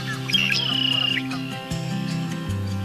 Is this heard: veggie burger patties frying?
no